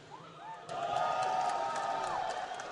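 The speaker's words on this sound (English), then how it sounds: "let me hear you guys cheer in the audience" An esports match audience cheers and whoops, rising quickly into a sustained roar of many voices with a few high shouts standing out.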